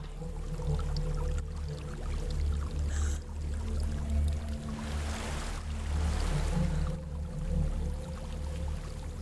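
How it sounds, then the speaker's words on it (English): A waterfall in Hellblade: Senua's Sacrifice: a steady rushing water roar that swells in the middle, beneath a low ambient drone, with no speech. "There's a waterfall."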